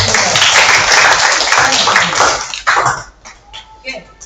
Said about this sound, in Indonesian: Tepuk tangan lah kalau betul.